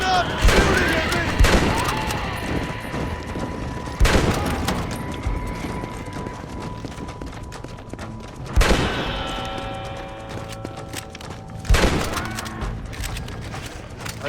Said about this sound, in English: Stay back, son! I'll hold them off! Don't make me kill you! Stop shooting at me!